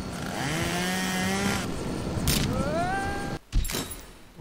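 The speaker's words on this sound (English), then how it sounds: "Chainsaw!" Chainsaw revving in the Henry Stickmin Collection video game, a sustained buzzing whine with shifting pitch over game music, then a sudden crash-like burst near the end.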